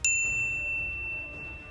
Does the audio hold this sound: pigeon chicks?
no